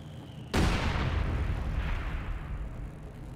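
A single loud artillery or mortar blast from a multiplayer strategy video game battle over a center victory point, striking suddenly and then rolling off into a long, rumbling decay.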